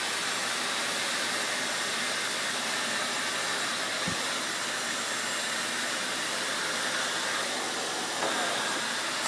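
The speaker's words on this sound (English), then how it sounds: "So now I'm just going to go through and just rough dry everything else." Hair dryer blowing steadily as it rough dries hair after a hair treatment, a loud continuous airy roar with no talking.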